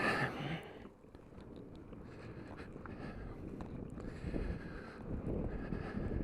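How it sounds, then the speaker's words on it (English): Steady wind roar buffets the rider on a 2021 Super Soco CPX electric scooter, continuous and fairly loud, with almost no motor sound, only rushing air and microphone gusts. "It's really strange when all you can hear is the wind."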